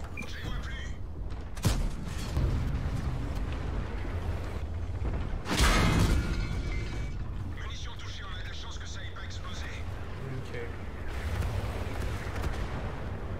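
Heavy artillery explosions boom in a World of Tanks frontline battle with a Bat.-Châtillon Bourrasque. Two sharp, loud blasts with rumbling tails sound over continuous battle noise, and a voice talks throughout.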